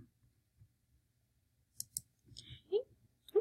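A few sharp computer mouse clicks, close and fairly faint, with short gaps between them in a quiet room while someone navigates course pages on a computer.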